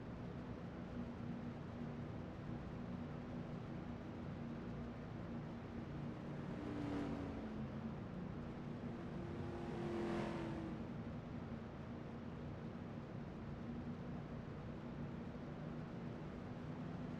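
Race trucks in the FARC Truck Series at Salem accelerate at a restart, two distinct roaring engine passes sweeping by over a dense, steady wash of distant track noise, with no voices.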